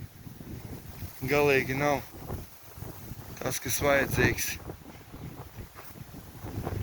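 Strong wind blows across a microphone at Burtnieks lake in Latvia, a steady rumbling buffet that runs under someone speaking Latvian.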